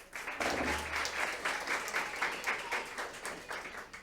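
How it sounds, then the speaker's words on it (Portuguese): A church congregation claps together for several seconds, a dense and steady round of applause that swells early and holds at an even level with no talking over it. "Vamos aplaudir ao Senhor com alegria."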